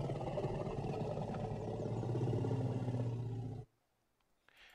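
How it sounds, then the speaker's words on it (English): A low, growl-like roar sound effect from the Alice programming environment rumbles loud and steady for about three and a half seconds, then cuts off abruptly, followed by a faint brief noise. "And the low roar, that's more growl-like,"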